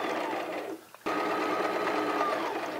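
A sewing machine runs a back stitch on a garden apron, whirring steadily and close up. A brief pause and a click come about a second in, then the motor resumes its even hum.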